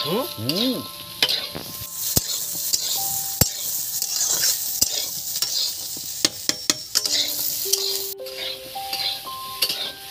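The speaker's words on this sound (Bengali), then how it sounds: "দেখুন, এটাকে বেশি ফ্রাই করা যাবে না, এই রকম হালকা ফ্রাই করতে হবে বন্ধুরা।" Pointed gourd (potol) frying lightly in a pan, a steady sizzle with a utensil scraping and clinking against the metal throughout, close and fairly loud, with no voices.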